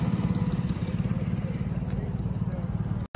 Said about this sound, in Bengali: বাইকের আওয়াজ হয়।